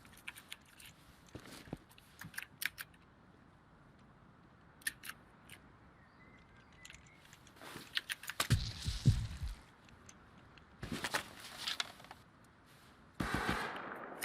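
Computer keyboard keys click in short, quiet bursts during a session of the game Rust, with scattered taps and a few louder in-game gunshot-like bangs mixed in.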